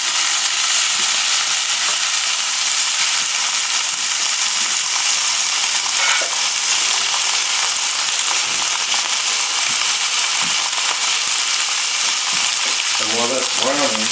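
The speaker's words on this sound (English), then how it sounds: "I'm going to cook this on top of the stove instead of the oven." A stuffed breast of veal browns in a smoking-hot pan on the stovetop, giving loud, constant close-up sizzling and spitting throughout, with a short burst of voice near the end.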